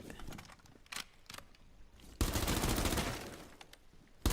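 Gunfire in the video game Rainbow Six Siege comes as scattered single shots that build into a dense burst of rapid automatic fire, loud and close, then trails off into a few more cracks.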